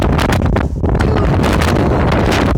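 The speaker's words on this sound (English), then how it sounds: "It's so windy right now!" A strong wind storm roars and buffets the microphone, loud and continuous with gusty surges and one brief lull, no voices.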